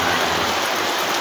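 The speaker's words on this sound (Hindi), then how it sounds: "आज बहुत तगड़ी बारिश हो रही है हमारे यहाँ।" Heavy monsoon rain pours in a village in Basti district, a dense steady hiss of drops hitting surfaces, loud and continuous with no voices.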